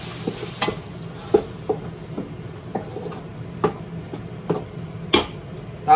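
A spoon stirring mussels and tomato in a cooking pot, giving irregular scraping knocks and clinks over a faint background simmer.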